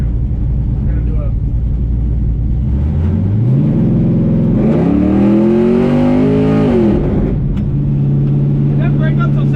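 A vehicle engine, close and loud, revs up through the gears, its pitch climbing steadily, dropping, then settling to a steady idle, with people talking over it.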